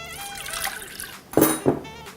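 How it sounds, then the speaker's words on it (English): A cup of water is poured into a saucepan while making a peppermint mocha syrup: a brief splashing, gurgling pour with two stronger surges near the end, close and clear. "you're going to put 1 cup of water into a saucepan"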